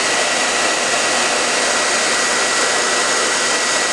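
Blow dryer or embossing gun heating pink HTV, a steady loud broadband whoosh that holds unchanged throughout with no pauses.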